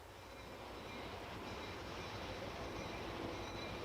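Wisconsin Central freight train on the move, a faint, steady rumble and rolling wheel noise with soft rail clatter, continuous throughout.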